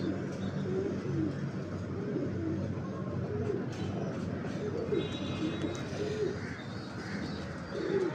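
Breeder pigeons cooing: a pair kept by a fancier gives soft, repeated throaty coos at a steady pace over a constant background hiss, close by and moderately loud.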